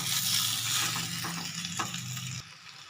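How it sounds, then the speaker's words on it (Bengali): Amla (Indian gooseberry) pickle is stirred in a pan over low-medium heat, giving a continuous soft sizzle of frying with scraping stirs that drops in level near the end. No talking is heard. "একদম লো মিডিয়ামে দিয়ে এবার একটু ভালো করে নেড়ে চেড়ে নেব"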